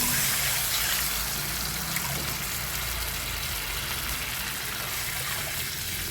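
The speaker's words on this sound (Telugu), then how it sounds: "ఇప్పుడు వాటర్ వేస్తాను" Water pours steadily into a cooking pot of moong dal and rice, a close, continuous gushing rush that holds at an even level without pause.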